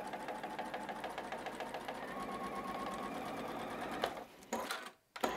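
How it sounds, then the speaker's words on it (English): A sewing machine stitching a quilt block of Michael Miller fabric runs with a steady, rapid, close mechanical whir, then stutters and stops briefly just before the end. "Head on over to your sewing machine"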